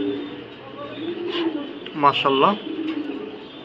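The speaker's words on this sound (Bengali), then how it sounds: "এই হলো কবুতর।" Pigeons in a loft, including moulting young adults, giving soft low coos with a louder burst of rolling coo calls midway; someone speaks briefly nearby.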